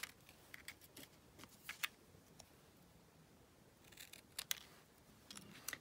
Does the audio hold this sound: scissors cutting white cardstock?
yes